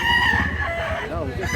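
Rooster for sale at a chicken market in Consolacion, North Cebu, crowing and clucking close by with a rising and falling call near the end, over steady market chatter and background noise.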